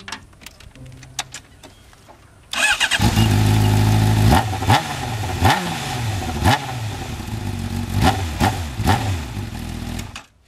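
A Honda CB600F motorcycle engine with the air filter removed fires up and revs repeatedly, loud and raw with a harsh throaty roar, each blip of the throttle rising sharply before dropping back.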